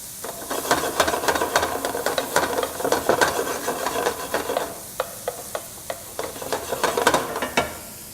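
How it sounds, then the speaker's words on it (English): Onions cooking down in a quarter cup of olive oil in a pan on medium heat: a soft, steady sizzle under repeated scraping and stirring strokes of a utensil across the pan. "I'm starting in a medium heat pan, 1/4 cup of olive oil, our onions, and we're going to cook these down"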